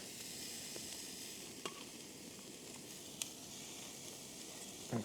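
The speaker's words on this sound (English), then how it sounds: "Put the steak on. Frying already because it's super thin titanium pan." Steady, faint sizzling hiss of steak frying in a thin titanium pan at a wild camp, with a few small clicks and pops over the continuous crackle.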